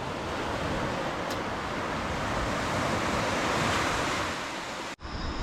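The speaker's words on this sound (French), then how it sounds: "On était tout seul avec le bruit des vagues." Ocean waves wash continuously onto a quiet shore in Guadeloupe, a steady roaring surf with some wind buffeting the microphone, ending in a sudden cut.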